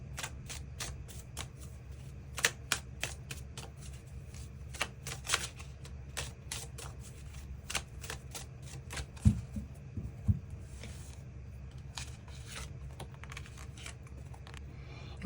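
Tarot cards being shuffled and drawn, a steady run of crisp, rapid card flicks and riffles with a few sharper slaps as cards are laid down, close and fairly quiet, with no talking.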